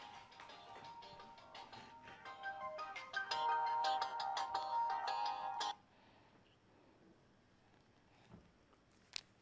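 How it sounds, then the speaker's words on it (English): A mobile phone ringtone plays loud and melodic for several seconds indoors, then cuts off abruptly, leaving a quiet room with faint handling sounds. "My phone."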